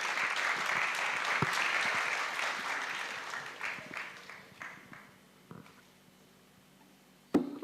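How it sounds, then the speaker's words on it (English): Audience applause at a children's summit, starting as dense, steady clapping from a crowd and then thinning out into scattered claps that fade over several seconds, with a sharp knock near the end. "A round of applause, please."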